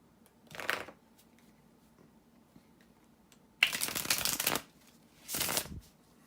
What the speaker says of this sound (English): to shuffle the tarot cards